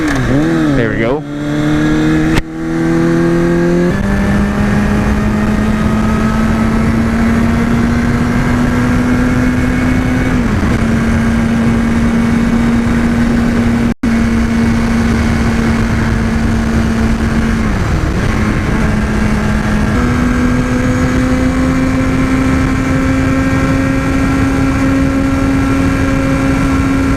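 A 2005 Kawasaki ZX6R 636 sport bike revs through its early gears, then settles into a steady, loud whine punctuated by brief dips at each shift, with wind noise underneath from the rider's position.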